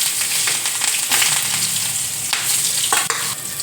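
Mustard seeds, hing, garlic, onion and green chilies frying in a pan, a loud close sizzle with crackling pops and stirring scrapes, no voices.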